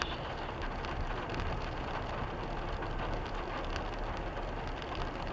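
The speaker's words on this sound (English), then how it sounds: "it's raining again" Steady, dense rain pours down continuously, a broad hiss with no pauses and no voices.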